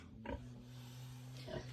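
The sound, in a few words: sow grunting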